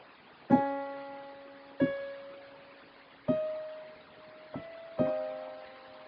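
A song passage played on an organ or keyboard, five struck chords about 1.3 seconds apart, each ringing with steady harmonic tones that slowly fade, played alone with no talk.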